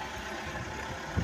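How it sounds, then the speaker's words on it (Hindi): A tractor engine runs at a steady, moderately distant idle, a low broadband hum with a brief thump near the end, heard amid rainy outdoor noise in rural Pakistan. "ट्रैक्टर शुरू है"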